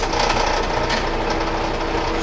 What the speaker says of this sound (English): We're drilling into steel here.